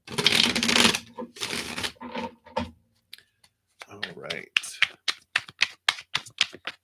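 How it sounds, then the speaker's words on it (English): Tarot cards are shuffled in quick bursts: a dense riffle at the start, then a run of sharp, evenly spaced card taps, with a brief spoken comment in between. "Let's give it one more shuffle."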